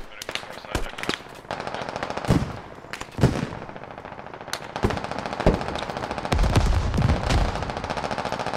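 Machine gun fire in the military shooter video game Squad, loud sharp bursts and single cracks spread across the stretch, with a heavier sustained rattle near the end.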